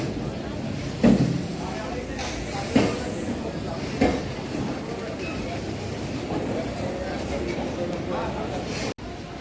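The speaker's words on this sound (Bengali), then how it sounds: "এটা হচ্ছে রানাঘাট কারশেডের ট্রেন" A Ranaghat car shed suburban local train stands at a station under a constant low rumble and hiss, with a few sharp knocks, while people talk nearby.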